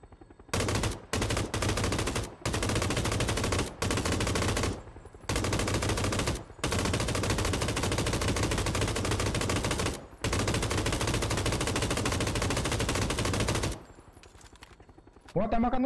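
Automatic rifle fire in the PUBG game rips out in long, loud bursts broken by brief gaps, a heavy continuous clatter from beginning to end.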